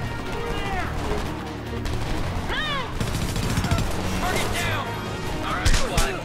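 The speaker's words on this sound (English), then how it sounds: "Heavy fire on my position" Heavy gunfire crackles through a Homefront battle, dense bursts of shots and ricochet whizzes over a rumbling backdrop, with voices talking under the exchange.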